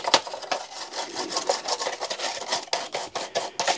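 A brass wire brush scrubs the metal contacts of a Roomba robot vacuum, making a quick rhythmic series of close, raspy scraping strokes with no voices.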